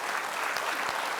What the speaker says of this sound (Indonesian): kita kasih tepuk tangan dong untuk Bu Iin.